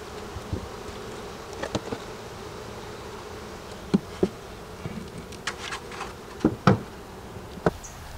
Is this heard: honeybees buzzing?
yes